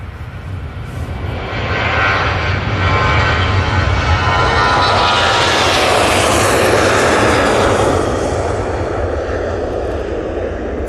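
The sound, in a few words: TUI jet taking off on runway 23 left, Manchester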